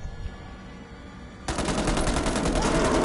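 Rapid automatic gunfire from a multiplayer video game erupts suddenly after a quiet, low-level stretch, a loud sustained burst of shots continuing to the end.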